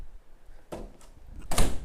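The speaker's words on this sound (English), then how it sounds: "I'm gonna close my door." A bedroom door swinging shut indoors, giving a couple of soft thumps and then one louder close near the end, fairly near and with no talking.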